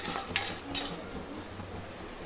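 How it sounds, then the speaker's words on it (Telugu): Cumin and mustard seeds fry in hot oil in a pan as the tempering for a raw mango pulihora. A short, close burst of dense crackling sizzle is heard with a few light stirring clinks. "హాఫ్ స్పూన్ జీలకర్ర వేసుకోవాలి ఆ తర్వాత ఒక స్పూన్ ఆవాలు వేసుకోవాలి జీలకర్ర ఇష్టం లేకపోతే స్కిప్ చేసేయండి ఇదంతా ఫ్రై చేసుకోవాలండి"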